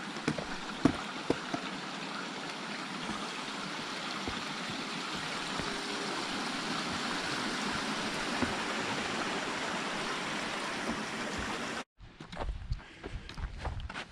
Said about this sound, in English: Oh, interesting creek crossing.